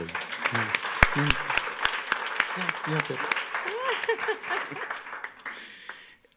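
A crowd claps for a woman at a public event, scattered applause that runs beneath overlapping talk and fades out toward the end.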